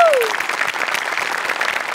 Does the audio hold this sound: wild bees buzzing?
no